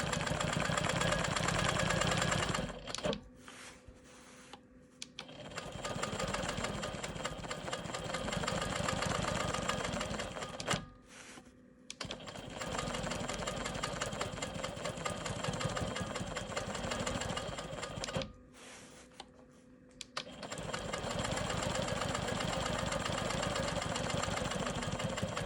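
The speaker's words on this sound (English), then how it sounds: "It's a good idea to go nice and slow on this part." Sewing machine stitching slowly through an Ohio Star quilt block, a steady close mechanical whir that runs for several seconds, stops briefly three times, then resumes; no talking.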